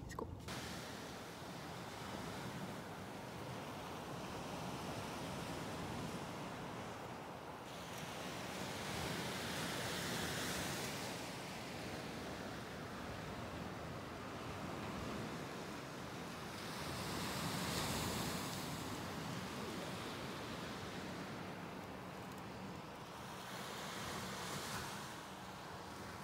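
Ocean waves at a beach in Yangyang, with a steady broad wash of surf rising and falling in slow swells, heard alongside wind buffeting the microphone, continuous and moderately distant, with no voices.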